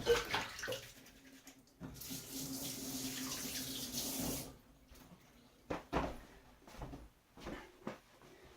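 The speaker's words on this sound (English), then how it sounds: "I'm going to rinse my hands." Hands are rinsed under a running kitchen tap while a young coconut is being opened, bringing a few seconds of steady gushing water, then quieter splashes and handling noises.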